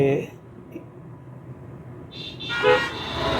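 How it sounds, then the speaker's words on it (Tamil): Traffic rumble with a short car horn toot, then a longer horn blast near the end, fairly close, heard during a driving lesson. "ஹார்ன் அடிச்சிருங்க ஒன் மோர் லாங் அடிங்க"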